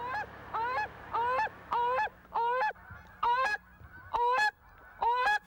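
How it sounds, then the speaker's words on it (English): Canada geese honking in flight over Chesapeake Bay country in December, with an old gander calling: about eight loud, clear, two-part honks in a regular rhythm, close and alone against quiet background. "The Canada geese are on the wing, and listen to that old gander, will you?"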